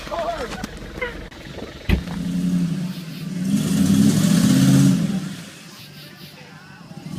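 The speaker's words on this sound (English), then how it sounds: "running trucks through the pond" A truck engine revs hard as it drives through a backyard pond, rising to a loud, sustained roar and then easing off, with splashing water and excited shouting voices over it.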